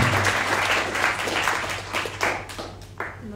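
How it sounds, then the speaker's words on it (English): Audience applause after a talk at a Japanese knotweed symposium, a few seconds of dense hand clapping that thins out and fades near the end. "One big applause for Gjalt Jan."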